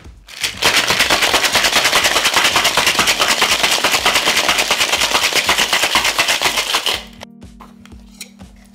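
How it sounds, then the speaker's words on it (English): A cocktail shaker packed with ice for a Trinidad Sour rattles hard and fast for about six seconds, a loud, dense, rapid clatter that stops abruptly, leaving a faint hum. "Just gonna fill it up with ice and give it a shake."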